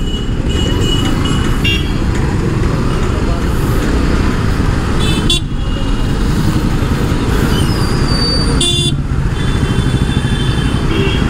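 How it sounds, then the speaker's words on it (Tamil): Heavy, congested city traffic around a motorbike, a constant loud engine rumble with repeated car horn honks of varying length, some close by, under occasional talk. "இவ்வளோ டிராஃபிக்காக இருக்குது இன்னைக்கு."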